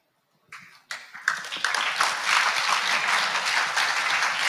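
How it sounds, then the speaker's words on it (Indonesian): Theatre audience applause after a ten-minute short play competition entry, starting with a few scattered claps and quickly swelling into full, dense clapping that stays strong to the end. "Berikan tepukan yang gemuruh kepada kumpulan Unity Production."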